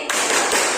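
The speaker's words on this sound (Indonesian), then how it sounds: "Sekali lagi tepuk konsentrasi." Classroom of students performing a concentration clap pattern, a short dense burst of hand claps in unison, close and loud, with no talking.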